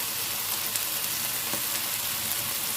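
Radish hits a hot pan already frying ginger and green onion, giving a steady, close hiss of sizzling oil with a few faint stirring ticks.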